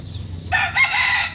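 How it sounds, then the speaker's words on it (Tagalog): A rooster crows once, loud and close, in a small backyard coop with hens, over a low background hum. "So yan ang mga inahin namin"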